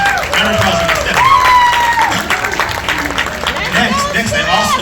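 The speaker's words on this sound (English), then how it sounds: "Round of applause for Stephanie." An audience applauds a speaker at a team culture event, a short burst of clapping and cheering mixed with crowd chatter and voices over it.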